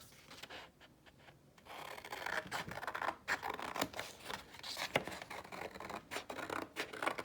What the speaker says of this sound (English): just cut it in half